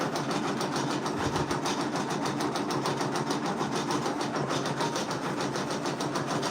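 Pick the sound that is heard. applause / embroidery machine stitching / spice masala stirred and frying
embroidery machine stitching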